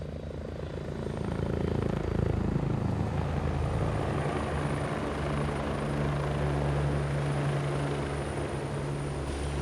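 Military light observation helicopter of an army aviation reconnaissance regiment flying during a live-fire exercise, its rotor and engine drone loud and steady throughout without a break, no voices.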